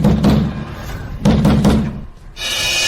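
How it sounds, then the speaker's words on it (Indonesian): Heavy fists pound on a door in a tense drama scene, two loud rounds of rapid thuds and knocks separated by a brief pause, close and forceful, followed by a steadier hiss. "Bahkan jika pintu dihancurkan"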